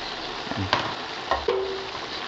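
Hot dogs for pork menudo fry and get stirred in a pan: a steady, close sizzle runs throughout, broken by a few clanks and scrapes of the utensil against the pan.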